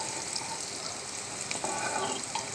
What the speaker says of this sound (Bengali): পেঁয়াজ কুচি দিয়ে ওগুলোকে ভালো করে ভেজে নিচ্ছি